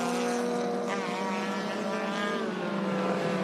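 Improved Production race cars roar around the Hidden Valley circuit, engines droning loudly and continuously with rising and falling pitch as several cars pass close together.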